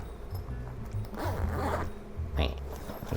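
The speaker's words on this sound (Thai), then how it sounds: "เขาก็จะมีช่อง เป็นซิปนะครับ เปิด สำหรับ ให้กระจาปองเนี่ยมันไหลลงมานะครับ" A zipper is pulled open on the fabric mesh base of a Takara Tomy Showy Gacha capsule-toy bag, giving one continuous rasping pull over a low background hum, with a second short zip toward the end.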